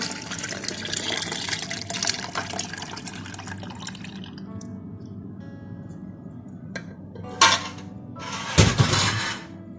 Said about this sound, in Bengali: দুধটা ব্লেন্ডারে ঢেলে নেব।